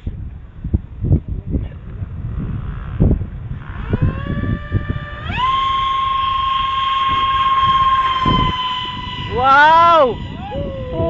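An F-14 model jet with an electric ducted fan spools up on its maiden flight to a loud, steady whine, then swoops up and down as it passes, after earlier clicks while people talk and cheer nearby.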